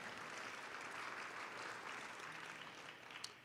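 An audience applauding at a government State of the Government address, a steady wash of many hands clapping, fairly distant and even throughout.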